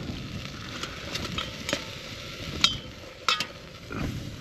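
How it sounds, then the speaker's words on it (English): Beef sizzles and crackles as it browns in a hot pan at a windy, cold camp, with a steady frying hiss broken by occasional sharp pops and scraping sounds. "We got the beef browning in there."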